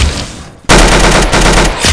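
Rapid gunfire from the online shooter game Arsenal, landing a headshot: a quiet lull, then a sudden loud, dense burst of shots that continues steadily to the end.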